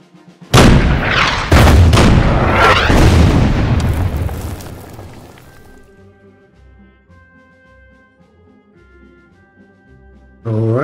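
Tank guns firing in the WW2 strategy game Order of Battle, on the Raseiniai battle map: several heavy, close booms in quick succession, each with a rumbling decay that fades into near silence with faint music.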